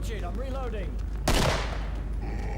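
Gunfire in the Killing Floor video game, a single loud burst of shot noise standing out sharply midway through the clip against an ongoing game soundscape.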